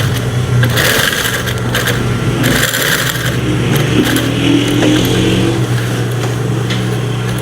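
An overlock sewing machine runs steadily while stitching the seam of a pair of jeans being made, a loud continuous motor hum and rapid needle chatter throughout, with no talking.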